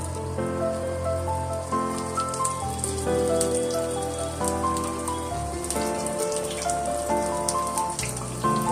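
A mutton roll fries crisp in hot oil, turned from side to side, giving a steady, close crackling sizzle that runs throughout, with tonal music playing underneath.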